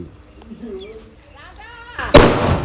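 Someone speaks briefly, then one loud, close Red Bull firecracker blast from Sivakasi booms out during Diwali and leaves a lingering roar.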